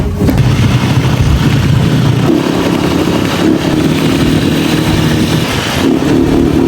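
A motorcycle rides along and arrives at a village home in Neelum Valley, its engine loud and close throughout, holding a steady mid-pitched drone with slight shifts in revs and no voices heard.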